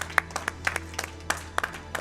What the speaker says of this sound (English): give this guy another applause because that was really impressive